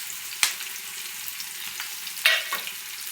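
Onion and green chillies frying in a pan make a low, even sizzle, broken twice by sharp clattering knocks of a utensil against the pan.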